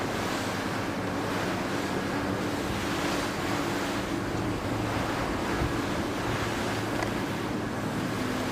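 Heavy wind gusts buffet the microphone over steady sea waves and surf as the racing yacht Vayu sails in strong breeze during a 52 Super Series regatta week off Palma; loud, continuous, no talk.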